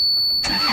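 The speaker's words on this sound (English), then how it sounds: "And now I'm going to turn the engine on." A narrowboat engine starts, a sudden broadband burst of cranking and catching after a thin, steady electronic whine, loud and close.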